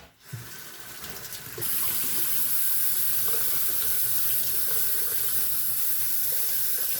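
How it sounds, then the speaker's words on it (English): Salted food rinsed under a running kitchen tap, water streaming steadily and fairly close into a sink, starting softer then settling into a constant full gush with no talking. "I still rinse it off"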